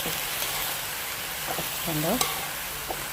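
Banana flower and cowpea stir-fry with turmeric and grated coconut being stirred in a pan, a soft steady scraping with a faint sizzle and a few clinks, one brief spoken word over it.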